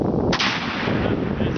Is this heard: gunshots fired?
yes